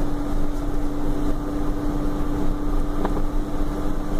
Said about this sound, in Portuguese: Freio de motor agora. Freio de motor ligado.